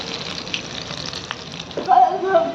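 Cumin seeds sizzle in hot oil for a gongura sesame chutney, a soft, steady frying hiss that stays fairly quiet beneath talking and kitchen sounds.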